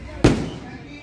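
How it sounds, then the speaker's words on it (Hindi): A single sharp firecracker bang goes off at a Ravana-burning fair during the Railway Ramlila Vijayadashami celebration, loud and close, its crack trailing into a rumbling decay over outdoor crowd noise. "पटाखा छूट रहा है।"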